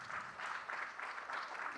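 A live podcast audience at a festival claps in a brief, quiet burst, the sound coming in soft rhythmic pulses and heard from a distance.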